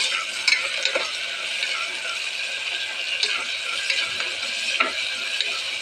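Ivy gourd fries in a cooker, a steady close sizzle with a spoon scraping and stirring through it in irregular strokes.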